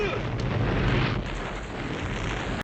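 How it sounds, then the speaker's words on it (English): A dense, rumbling roar of a bomb explosion from the film Rambo: First Blood Part II (1985) fills the air, sustained and broad for a couple of seconds before cutting off abruptly. "What is that? A bomb, I think."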